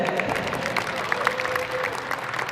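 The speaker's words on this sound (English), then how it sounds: "Big round of applause for Mr. Chris Rance." Crowd applause at a railroad museum roundhouse turntable demonstration, a lively burst of clapping from a gathered group, close and fairly loud, with some voices mixed in.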